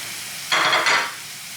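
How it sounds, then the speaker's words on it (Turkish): Yellow and green peppers hit a hot pan, sending up a sudden burst of loud sizzling frying that swells for about half a second, dips briefly, surges again, then fades back to a low hiss. "şimdi biberlerini ekleyeceğim. Sarı ve yeşil biber."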